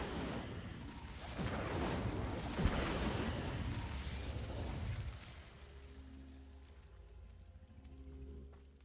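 Fire spells Confringo and Incendio cast in Hogwarts Legacy, a roaring fiery burst with sharp pops that swells loudly for several seconds, then fades into a softer lingering hum.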